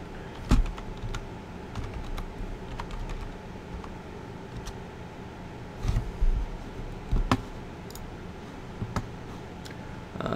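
Fast, uneven keystrokes on a computer keyboard clatter steadily at close range, with a few louder key presses standing out and no talking.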